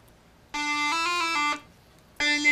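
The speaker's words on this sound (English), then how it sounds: "This is the sound of the synthesizer" A synthesizer routed through a talk box and tube sounds out sustained buzzy, vowel-shaped tones, one longer note with shifting pitch followed by a short gap and another note starting, close and clear with no speech.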